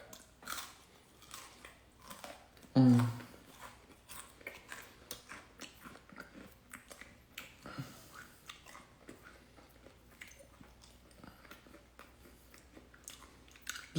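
Crunchy two-ingredient keto pizza chips bitten and chewed up close, with one sharp, loud crunch followed by a long run of quieter, irregular chewing.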